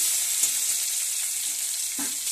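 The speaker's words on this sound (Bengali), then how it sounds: "এর মধ্যে আমি এবার রসুন বাটাটা দিয়ে ভালো করে ভেজে নেব।" Garlic paste frying in oil in a pan for a Bengali banspata fish kalia, a steady broadband sizzle with a couple of soft stirring knocks, close and continuous, no voices.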